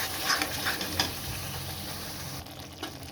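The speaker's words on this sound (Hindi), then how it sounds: "मैं यहाँ पे डालती हूँ पिसा हुआ पालक इसमें डाल देती हूँ। और मैं इसे भी अच्छे से भून लेती हूँ।" Ground spinach frying in a pan with oil while being stirred for palak paneer, a steady soft sizzle with faint scraping touches, moderately close and without talk.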